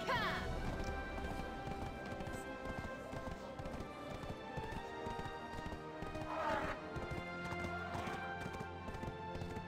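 Horse hooves clip-clop steadily in Black Desert Online, a continuous gallop rhythm over game music and ambience, with a brief whinny-like burst midway.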